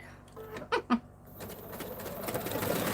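Domestic sewing machine stitching appliqué onto dark fabric at a home craft session, a steady low mechanical whir building from about halfway and continuing, preceded by a couple of brief soft knocks.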